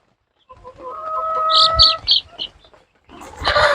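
Young chicks, many of them cockerels, chirping in their coop, a few clear high cheeps and clucks close by, with rustling between the calls.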